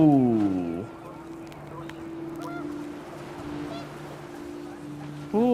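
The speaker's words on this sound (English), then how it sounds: "The wind picked up and panicked geese appeared and quickly went." Panicked geese honk in What Remains of Edith Finch, a loud burst of harsh calls up front, then a low droning tone with scattered faint cries, and another honk near the end.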